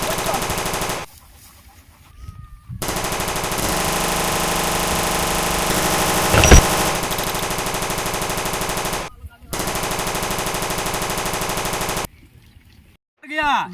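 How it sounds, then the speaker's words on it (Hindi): Sustained bursts of rapid machine-gun fire at a border position in a staged battle between Indian and Pakistani soldiers, loud and continuous with brief pauses between long volleys. "पाकिस्तानी गोली चला रहे हैं"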